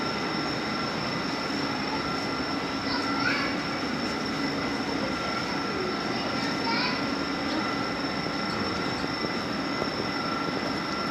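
An 8-coach Thameslink train sits idling at a depot open day, giving off a continuous electrical hum and compressor drone with a few high chirps, while voices murmur faintly in the background.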